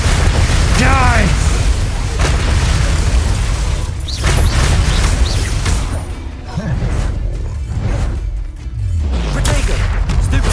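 Spell explosions boom and crash amid dense combat noise in Hogwarts Legacy, loud and continuous, with a voice calling out under the din.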